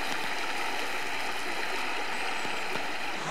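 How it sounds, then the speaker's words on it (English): A river rapid rushes over boulders on the Throat River in its shallow upper headwaters late in the season, a constant broad roar of flowing water, close and steady, with no voices. "It's our first rapid of the day, and it's just way too bouldery to go down."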